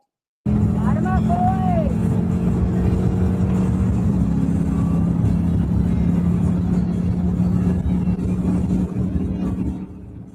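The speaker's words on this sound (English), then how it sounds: "Trooper Mitchell reaches 142 miles per hour before activating his emergency lights" A police cruiser accelerating hard to very high speed on a highway, a steady loud engine and road roar that holds for about ten seconds before easing slightly at the end.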